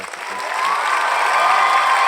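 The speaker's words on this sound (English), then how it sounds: "That was a hand clapping, cheer" A crowd claps and cheers, the applause swelling within the first half second into a loud sustained roar with whoops and whistles on top.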